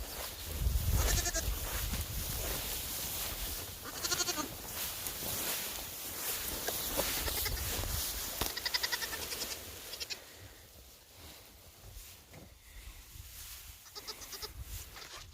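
Goats bleat repeatedly, several wavering calls rising over a busy farmyard background, with shuffling movement between them.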